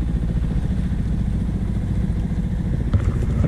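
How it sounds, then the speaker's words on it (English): A sailboat's inboard engine runs at a steady idle after the wind dies near Fair Isle, a close, loud, low chugging drone with slight clatter. "I had to start the engine."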